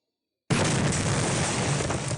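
An explosion in a Postal 2 video game mod starts with a sudden loud boom after silence, then continues as a sustained roaring, crackling blast that holds steady to the end.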